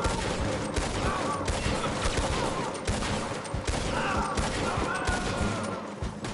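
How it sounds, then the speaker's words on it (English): Video game gunfire rattles in dense, continuous bursts of rapid shots, loud and unbroken throughout the short stretch, with a voice faintly underneath. "y'all don't see me shooting at this man"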